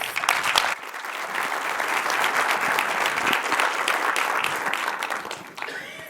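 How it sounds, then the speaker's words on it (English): An audience at a cancer forum session applauds a professor introduced as a speaker: sustained, dense clapping from a sizeable crowd that swells after a brief opening and carries steadily to the end. "So give him a big round of applause, Professor David Thomas."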